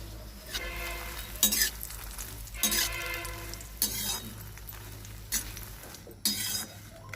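Fox nuts (makhana) roasting in a pan while being stirred, heard as repeated scraping, rattling bursts over a low steady hum, with no talking.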